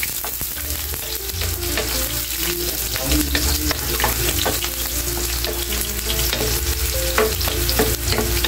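Onion frying in a hot pan as the start of chicken liver adobo, a loud, dense crackling sizzle with frequent clattering stirs of a spatula against the pan, close up and without talk.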